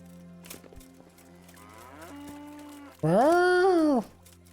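A cow in the medieval role-playing game Kingdom Come: Deliverance lets out a single loud, nearby moo lasting about a second, preceded by softer ambient game sounds and a lower, fainter call.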